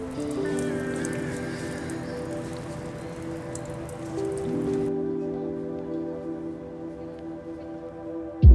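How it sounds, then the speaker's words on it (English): Water drips and trickles steadily at a shrine's hand-washing purification fountain in Tokyo, a close, continuous patter like light rain on stone, with no talk over it. "you're supposed to wash your hands here with the water that is dripping"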